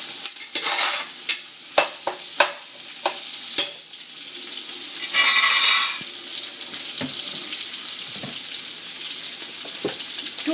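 Chopped ginger and six or seven garlic cloves fry in a pan for a mutton stew, a loud steady sizzle broken by sharp spatula knocks and scrapes, with a brief burst of heavier hissing in the middle.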